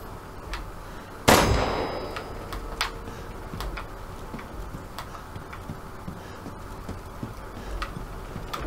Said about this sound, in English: Let the five bells of this chamber ring out